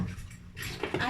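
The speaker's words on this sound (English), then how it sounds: "I'm done with washing the dishes." Dishes and cutlery clatter and clink close by during hand washing at a sink, a short burst of scraping and tapping over running background noise.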